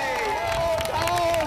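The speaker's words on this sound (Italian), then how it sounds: "Un applauso, signori!" A crowd applauds and cheers in Piazza dei Signori, a steady wash of clapping and voices that stays loud throughout, with a tonal layer running underneath.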